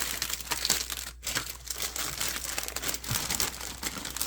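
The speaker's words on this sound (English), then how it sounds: "Let's open up these bags." Plastic bags holding parts of an Accurate Miniatures 1/48 IL-2 M3 Sturmovik model kit crinkle and rustle as they are torn open, a steady close crackling with a brief pause partway through.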